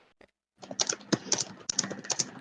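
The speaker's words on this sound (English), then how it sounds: "I heard very heavy typing." Heavy typing on a computer keyboard, a rapid run of hard, clacking keystrokes after a brief pause with two faint taps, close and loud with no talking.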